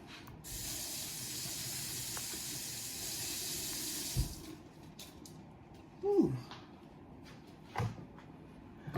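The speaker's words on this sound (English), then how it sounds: "Let me rinse this off right quick" A sausage is rinsed under a running kitchen tap, giving a steady, loud hiss of water for about four seconds. Quieter handling clatter and brief knocks follow once the water stops.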